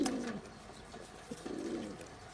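Fakir Gul pigeon, a big-sized bird, giving a low close coo at the start and another softer coo partway through, with light background noise and no talk.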